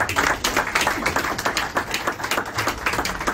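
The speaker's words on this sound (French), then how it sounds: "Nous applaudissons." Audience clapping at an Ekolo party ideological training meeting in Kinshasa, dense rhythmic applause close and loud, continuing steadily throughout.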